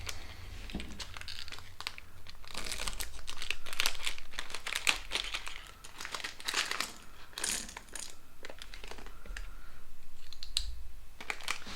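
A sealed plastic package of keycaps is handled and cut open, with crinkling plastic, snipping, and small rattling clicks of the loose keycaps inside. The sounds are close but fairly quiet and continue irregularly throughout.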